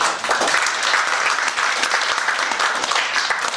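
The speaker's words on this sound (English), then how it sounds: "let's welcome Professor David Mason with a big round of applause." Audience applause welcoming a professor before a lecture on dragons in Korean shrines: dense, steady clapping from a crowd, loud and sustained through the whole stretch with no talk over it.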